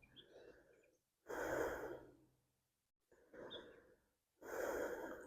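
Slow, deep yoga breaths come close and soft: three long, airy exhales separated by quiet pauses, each rising and fading gently.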